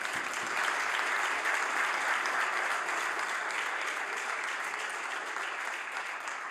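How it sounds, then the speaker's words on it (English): Sustained applause from a large group of legislators during parliamentary question period, steady clapping that swells slightly and holds for several seconds without a break. "Notwithstanding the self-serving applause"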